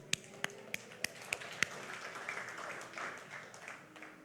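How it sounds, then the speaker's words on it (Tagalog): A church congregation claps in praise, six sharp, evenly spaced claps ringing out close and distinct, then fading into soft room noise and faint murmuring. "Yun naman palakpak para kay Lord"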